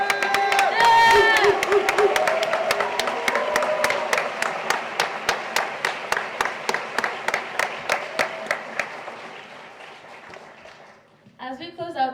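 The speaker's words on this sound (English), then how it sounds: "I think our graduates deserve one more round of applause." A graduation ceremony crowd cheers and whoops at first, then shifts into rhythmic unison clapping that slowly dies away. A voice speaks at the end.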